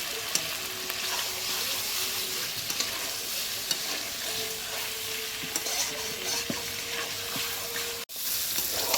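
Potatoes frying and stirred with spiced meat in a pan, a steady hiss with scraping stir strokes throughout, ending in a sharp clatter near the end.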